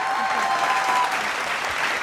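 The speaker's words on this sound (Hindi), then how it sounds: "एक बार फिर तालियां हो जाए।" Studio audience applause on a Hindi television talk show welcoming an actress, a dense, even patter of many hands clapping at moderate volume, continuous without pause.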